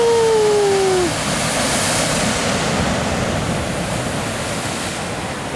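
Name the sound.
ocean swell waves at Peggy's Cove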